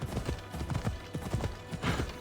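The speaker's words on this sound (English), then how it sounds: "I'm just gonna grab a horse so I can move quicker here." Horse hooves clip-clop in the Assassin's Creed Odyssey video game, a quick, even run of close hoofbeats at a steady trot lasting the whole stretch, with no voice over them.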